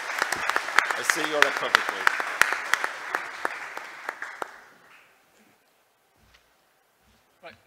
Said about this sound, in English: Please applaud to my panelists